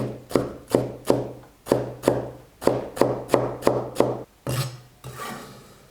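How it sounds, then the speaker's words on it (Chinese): Knife chopping green bell pepper into small dice on a cutting board: rapid, steady rhythmic chops in bursts close up, pausing briefly between runs and ending with a scrape. "1片青椒先切丝，再切成小碎丁。"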